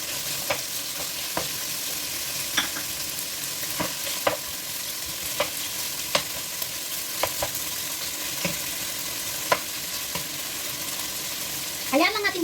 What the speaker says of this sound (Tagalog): Hintayin natin uminit yung mantika. Kapag mainit na, ilagay muna natin yung belly pork.